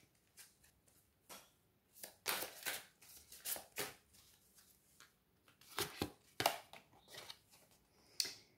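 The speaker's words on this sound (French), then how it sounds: "on va prendre une carte des anges de l'amour" Angel love oracle cards being shuffled and drawn by hand, giving soft papery riffles, slaps and flicks in irregular bursts, close and fairly quiet with no talking.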